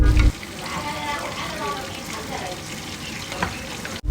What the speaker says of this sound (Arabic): نضيف التمان والملح والماجي ونحمسه حمسة زينة.